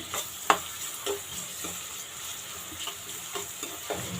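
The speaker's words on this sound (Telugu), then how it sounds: "ఇప్పుడు ఇవి బాగా బ్రౌన్ కలర్ వచ్చేంత వరకు వేపుకుందాం" Chopped onions fry in a pan for a chicken masala curry, a steady soft sizzle under a few clear scraping stirs, close and moderately quiet with no talking.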